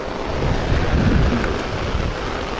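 Heavy rain pours down as a dense, steady roar with a deep rumbling undertone, close and loud throughout with no voices.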